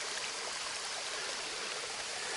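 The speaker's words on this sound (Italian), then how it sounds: "Cascata della doccia" Rushing water pours continuously in a steady broadband hiss, a small shower-like waterfall cascade close by at the Rioscuro falls near Cineto Romano.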